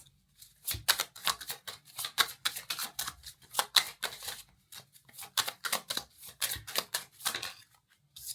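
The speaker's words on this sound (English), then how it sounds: "as I was shuffling the deck" Quick bursts of tarot cards being riffle-shuffled, repeated in short rhythmic runs with brief pauses between, close and fairly quiet.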